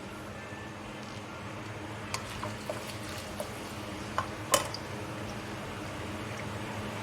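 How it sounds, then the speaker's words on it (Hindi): Chopped onions fry in about half a cup of hot oil in a pan for a potato and brinjal curry, giving a steady, soft sizzle with a few light clicks and a stir-like scrape near the end. "तो इसको फ्राई करेंगे प्याज को।"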